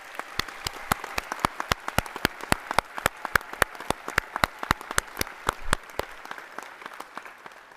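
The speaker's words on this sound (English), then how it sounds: "Can we just pause and clap for you again?" Applause at a 2023 business school graduation ceremony, heard as sharp, distinct claps in a fairly regular rhythm over a soft background patter, fairly quiet and with no talk.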